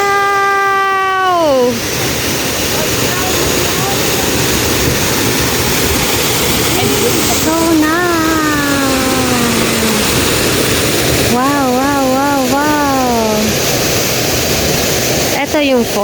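Ranao Falls roaring as a dense, constant, loud wash of falling water, with voices talking and exclaiming over it in drawn-out, pitch-sliding tones at several points.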